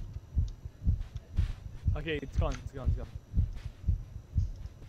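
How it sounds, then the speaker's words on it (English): A game sound effect in the Backrooms video game: a low, thumping heartbeat pulses steadily in regular double beats throughout, close and prominent, while a player speaks briefly over the middle. "Why is my heart beating?"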